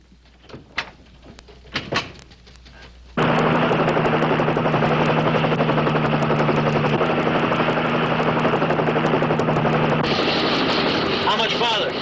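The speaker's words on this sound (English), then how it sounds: "Get the patrol chopper in that area." A patrol helicopter drones loudly and steadily with a thumping rotor, starting abruptly after a few sharp knocks, and stays close and constant to the end.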